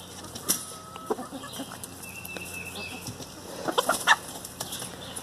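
Hamburg chickens in a backyard pen, soft scattered clucks and a few sharper calls from hens at moderate distance, with brief flapping and quiet background between.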